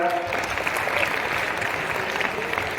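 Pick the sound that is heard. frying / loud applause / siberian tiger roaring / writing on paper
loud applause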